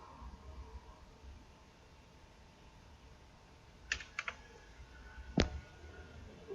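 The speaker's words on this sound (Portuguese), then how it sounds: "Posso digitar o comando" Typing a command on a computer keyboard: a few quiet, close key clicks in a short burst, then a sharper tap, over faint room hiss with no talking.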